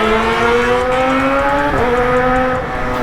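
A loud aftermarket motorcycle exhaust on a Kawasaki ZX drones up close, holding a steady revving tone that dips briefly and then carries on.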